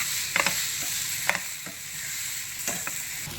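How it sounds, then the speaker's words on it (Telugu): Chili powder being stirred into a sizzling pan of sun-dried cucumber dal curry, with a steady frying hiss and a few soft, quick scrapes of a spoon against the pan. "ఈ కారాన్ని మళ్ళీ కలుపుకుందాం"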